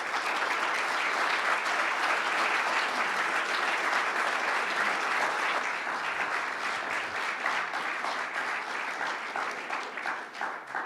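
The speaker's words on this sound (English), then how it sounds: "why don't you give a hand clap" A conference audience applauds to welcome a speaker to the stage, a long, steady burst of many hands clapping that gradually tapers into more scattered claps.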